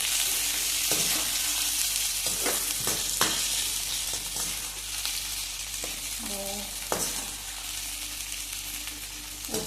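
Green chillies frying in oil for pickle, a quiet steady sizzle with occasional sharp stirring knocks and clinks against the pan.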